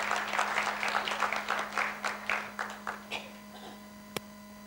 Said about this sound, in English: So give him a big applause in the first place.